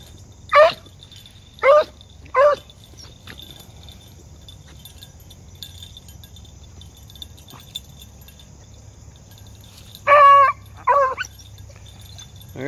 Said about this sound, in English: There's a little yelp.